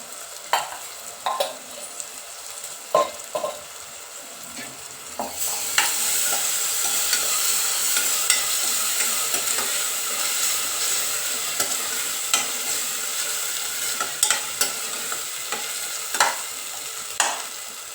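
Ginger garlic paste fries and sizzles in a pan for a paya (trotter) curry. A spoon stirs and scrapes in sharp taps, then a steady loud sizzle carries on underneath to the end, with no talk.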